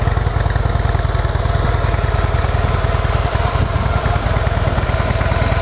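A Harley-Davidson Breakout with factory exhaust idles close by, a steady low rhythmic thumping engine loop that stays even and fairly loud throughout with no talk.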